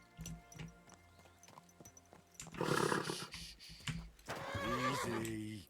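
A horse in the video game Kingdom Come Deliverance 2 neighs twice amid trotting hoofbeats, a loud whinny near the middle and another rising whinny toward the end.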